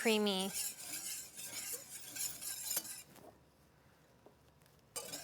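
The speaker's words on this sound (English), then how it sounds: "now we're gonna slowly whisk in 1 tablespoon of butter at a time" Whisk clinking and scraping in a pan as butter is worked, a tablespoon at a time, into a shallot pan sauce for seared steak, with quick metallic strokes that fade toward the end and a brief voice at the start.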